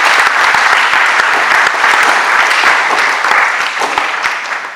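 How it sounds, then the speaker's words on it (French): Loud, dense applause from a wedding audience at a town hall ceremony, honoring the groom; steady clapping fills the room throughout and tapers slightly near the end. "Est-ce qu'on peut applaudir encore pour monsieur?"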